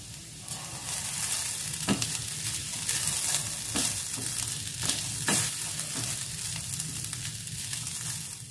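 Onion and grated coconut sautéed in a pan for pappadam thoran, heard as a loud continuous sizzle broken by several sharp scrapes and knocks of the spoon against the pan, with no speech.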